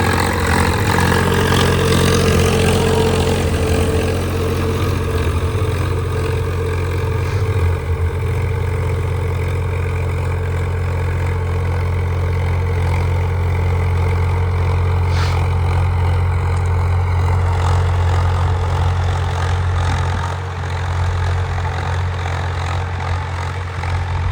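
An HMT 5022 tractor in third high gear pulls an 18-disc harrow through a field, its loud diesel engine droning steadily and close with a deep low rumble, constant throughout with only slight load changes.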